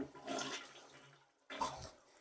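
A toilet flushing while a toilet auger is still in the bowl: a rushing swirl of water that fades out, then a second loud surge of water, close and alone with no speech.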